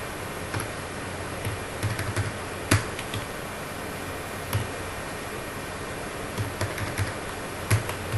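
Numbers typed on a computer keyboard into a Google Sheets spreadsheet, a sparse run of close, crisp key taps in small bursts with pauses, no talking.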